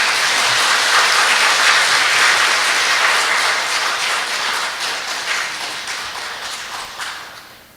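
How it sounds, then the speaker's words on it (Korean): Warm, loud clapping from an audience at a church retreat evening, full and continuous before gradually tapering off toward the end. "박수 한번 크게 칩시다."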